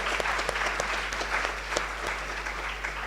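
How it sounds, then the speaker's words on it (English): Steady crowd applause for Professor Boxill at a university orientation, many hands clapping together in a continuous roar with a few sharper nearby claps standing out, over a constant low hum. "Guys, come on, another round of applause for Professor Boxill."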